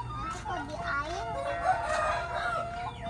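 A rooster in a West Java village crows and fowl cluck at moderate distance, the calls rising and falling over steady outdoor ambience, with a child and an adult talking throughout.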